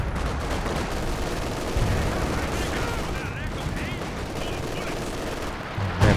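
Artillery shells and gunfire from the strategy video game Company of Heroes 2 form a dense, continuous barrage of distant shots and rumbling impacts, with a heavier boom near the end.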